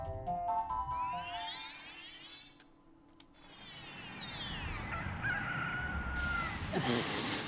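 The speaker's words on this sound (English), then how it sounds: "I love hearing the rooster crowing when you're underwater." A rooster crows repeatedly in the underwater area of the video game Zelda: Ocarina of Time, clear rising-and-falling calls alongside game sound effects and music, fairly quiet in the mix.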